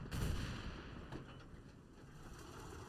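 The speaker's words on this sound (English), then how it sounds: "But that glorious explosion of ammo right there is me." Ammo rack of a half-track blowing up in War Thunder, one heavy blast at the start that rolls into a rumbling tail, with a smaller crack about a second later and a faint rattle of further pops under it.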